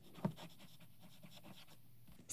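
A fine-nib fountain pen scratches across a Rhodia dot pad in short, faint strokes, very close and quiet, with a soft tap near the start.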